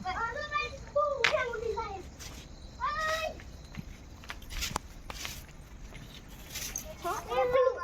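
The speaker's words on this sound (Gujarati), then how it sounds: "તો પ્રાંશુલ અહીંયા બિલાડી સાથે રમવા મળ્યો છે." A cat meows several times, short high calls spaced a second or two apart, close by, with footsteps and light handling noises between them.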